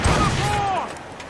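A ship's cannon volley in the naval combat of Assassin's Creed Rogue, rolling booms and blasts merging into a dense, loud fusillade amid sea and battle noise, with shouted voices in the scene.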